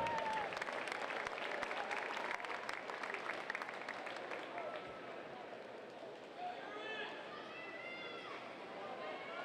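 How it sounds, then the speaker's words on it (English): A natatorium crowd applauds the champion of a swimming race out of lane 5, a dense, steady wash of clapping and cheering that fills the space, with faint whistles and chatter rising near the end. "How about a round of applause for your champion out of lane 5, David Plummer."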